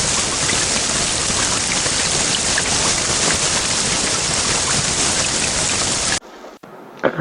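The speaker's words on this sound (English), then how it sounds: "this is a short sound of rain, so you will listen to it when I will hit this button" A short rain sound effect plays back from an audio file as a dense, steady hiss of falling rain that cuts off abruptly near the end, followed by faint room noise.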